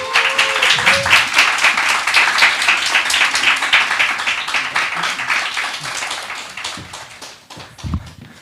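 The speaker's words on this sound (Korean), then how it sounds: "여러분 박수 쳐주면 나오겠습니다" Studio audience applause welcoming a guest onto a Korean talk show, dense clapping sustained throughout and tapering slightly toward the end, with a faint voice near the start.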